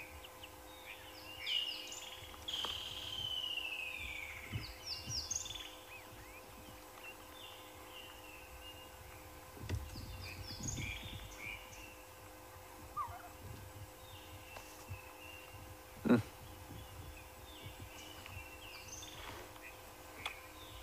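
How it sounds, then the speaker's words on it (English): Several wild birds, including chinspot batises, call at sunrise on an African bush safari: scattered chirps and whistled notes come and go at moderate distance over a low, steady background hum. "You can hear a few of the birds calling around us now. A couple of chin spot battises."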